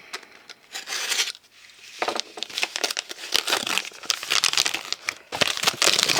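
Packing paper crinkles and rustles in dense, continuous bursts as a parcel of art supplies is unpacked close by, with short pauses between handfuls.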